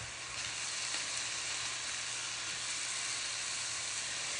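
A Salisbury-style chicken patty frying in a pan as it is flipped, giving a steady, even sizzle and hiss at moderate volume with no talking.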